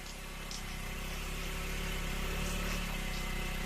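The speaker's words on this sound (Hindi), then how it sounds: "मेरे बेटे की गाड़ी की आवाज सुनाई दे रही है," A car engine idles and rumbles as a vehicle arrives, a faint, steady, low drone with a gentle vibration and no talk.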